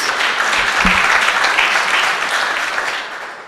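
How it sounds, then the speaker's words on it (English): A ceremony audience applauds steadily at the closing of the 2022 Sci-Tech Innovation Challenge, a dense, loud wash of many hands clapping for a few seconds, tapering slightly toward the end. "Another round of applause for them, please."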